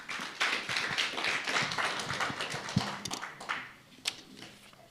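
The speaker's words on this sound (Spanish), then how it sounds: "Vamos a recibir con un fuerte aplauso." Congregation applause at a prayer service, a moderate crowd clapping with distinct individual hand claps standing out, somewhat distant and tapering off toward the end.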